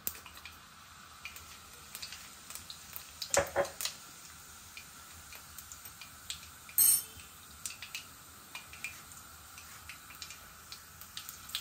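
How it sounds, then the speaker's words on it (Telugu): Mustard seeds crackle and pop in hot oil in a pan, faint scattered ticks with a couple of sharper clatters of utensils against cookware. "ఆవాలు చిట్పట్టమంటున్నాయి కదా"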